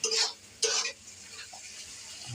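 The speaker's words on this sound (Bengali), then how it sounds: "এই যে শুটকি এখন কষাই দিব সুন্দর করে" Dried fish (shutki) stir-fried in a pan, with two short bursts of scraping and sizzling close up, followed by a quieter simmering hiss.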